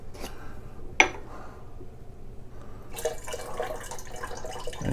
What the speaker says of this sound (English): Now I've added some more water to rinse it.